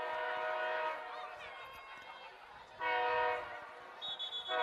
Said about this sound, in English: The train coming through here shortly.